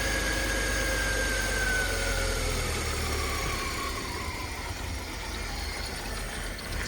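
A car engine, a 2.6 with about 14k miles that needed a rescue, idles steadily after being restarted, a continuous close low rumble with no talk.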